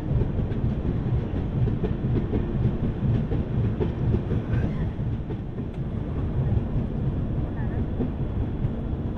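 Passenger express train running in the early morning, a loud continuous low rumble with steady rhythmic clatter of the wheels over the rails, heard from close by inside or beside the coaches, throughout.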